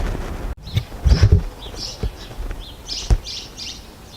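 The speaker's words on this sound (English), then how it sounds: "the birds are loud here in the morning" Birds chirp and tweet in short morning bursts, several calls overlapping outdoors, with light wind rumble and a few soft knocks nearby.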